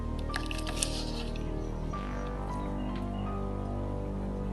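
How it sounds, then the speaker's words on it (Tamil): Jaggery is stirred into water to dissolve it, making soft wet squishing and sloshing sounds with light splashes at close range. "இப்போ இந்த வெல்லத்தை நம்ம தண்ணியில போட்டு கரைச்சிக்கலாம்"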